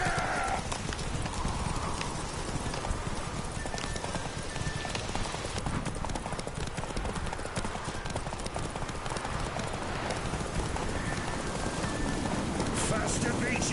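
Geralt riding his horse Roach in The Witcher 3: steady rapid hoof clip-clops over a continuous bed of game ambience, with a character's voice speaking over the ride.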